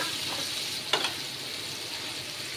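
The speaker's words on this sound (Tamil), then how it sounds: "இது லைட்டாக பட்டரில் வந்து நம்ம ஃப்ரை பண்ணி எடுத்துக்கலாம்" Paneer fries in butter in a pan with a steady close sizzle, and a short clatter of stirring comes partway through.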